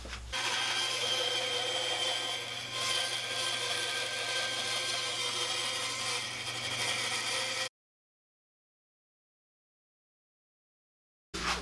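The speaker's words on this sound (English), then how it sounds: "going to do it on my bandsaw. I'm just going to follow the outside line of my bass guitar shape, cut this out." A bandsaw cuts along the outline of a wooden bass guitar body from a DIY bass kit. The motor drones steadily with the blade grinding through the wood for several seconds, then there is a gap of silence and a brief return of sound at the very end.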